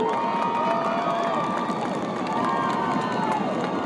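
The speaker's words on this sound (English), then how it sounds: "Crowd starting to get a little life in them up here." A high school football crowd cheers and roars steadily in the stands during a first-and-goal play, a dense, continuous wash of voices with scattered shouts and whistles throughout.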